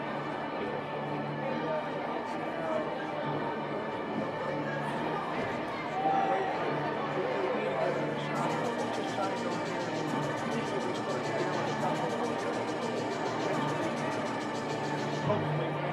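Loud, sustained crowd noise rolls through the gym at a wrestling meet, a thick wash of overlapping voices and shouts with a brighter burst of cheering partway through, continuous and close.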